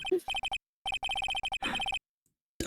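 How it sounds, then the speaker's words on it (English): A telephone rings in Phoenix Wright: Ace Attorney - Justice for All, a bright electronic trill heard in several quick bursts with short gaps between them, close and loud, with a brief noisy patch partway through. "Pick up the phone. Wing wing."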